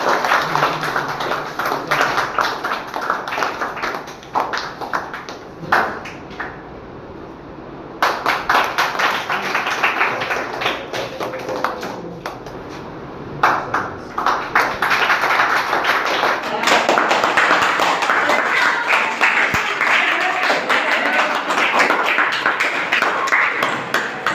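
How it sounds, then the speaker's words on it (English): An audience at a school elocution program claps over a long stretch, a dense, loud patter of many hands that drops back briefly twice and then swells again. Voices speak over it at times. "Clap for her."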